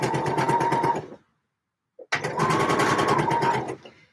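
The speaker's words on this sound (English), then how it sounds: "Then I can sew it together, which is exciting." Sewing machine stitching the lining of a Vogue 8947 dress, two close, loud runs separated by a short silent pause with a tiny click before the second run.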